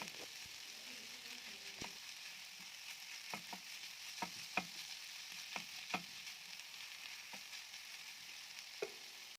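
Chicken and tomato filling sizzles softly in a pan with a steady faint frying hiss, while a spoon stirs it in scattered light scrapes and taps, close and quiet, with no talk.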